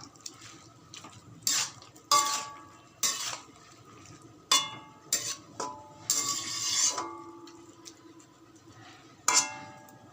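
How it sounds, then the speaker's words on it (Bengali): Radish greens with mustard paste being stirred in a pan, a utensil clanging and scraping against the metal in irregular bursts with quieter pauses between, close and moderately loud. "এবার ভালো করে এটাকে নেড়ে দেব, মিশিয়ে দেব সর্ষে বাটাটা"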